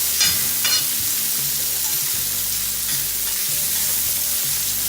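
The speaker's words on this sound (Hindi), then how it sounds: "तो सबसे पहले इसमें हम प्याज डाल देते हैं।" Chopped onions frying on a hot oiled tawa, a steady dense sizzle filling the clip with a few scraping stirs near the start, close and loud with no one talking.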